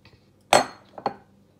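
Dishes clink as cooking ingredients are moved into a bigger bowl: one sharp, bright clink followed a moment later by a softer second knock, close and clear in an otherwise quiet kitchen.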